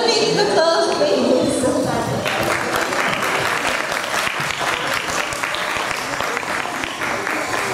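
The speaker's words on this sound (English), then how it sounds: "Yes, give him a big applause, please." An audience claps loudly and continuously for a puppet master, a dense wash of applause that carries on for several seconds with faint voices mixed in.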